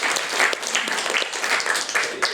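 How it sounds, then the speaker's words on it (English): An audience at a journalism and media conference claps warmly, a dense, steady patter of many hands with faint voices mixed in. "You guys give a warm round of applause."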